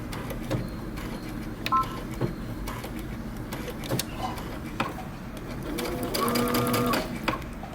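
Sewing machine back stitching the facing to a shirt dress, running in short close bursts with quick stops and restarts, building to a steadier, louder stretch of stitching near the end.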